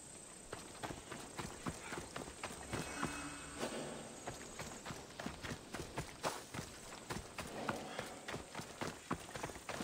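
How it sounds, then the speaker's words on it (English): Donkey hooves clip-clop steadily on the ground in the Assassin's Creed video game set in ancient Greece, a close, even run of sharp hoof strikes lasting throughout, with faint insect-like ambience behind. "Donkey."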